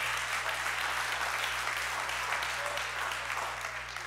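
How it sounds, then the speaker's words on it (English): A church congregation claps together in a sustained, dense wave of applause, loud and even throughout with a low steady hum underneath and no pause. "I need you to clap your hands right now for wholeness that God gives to us."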